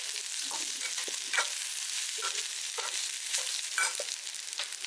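Grated coconut is stirred into a frying rice flour snack, giving a continuous bright sizzle with repeated soft scraping strokes of a spoon at a steady rhythm.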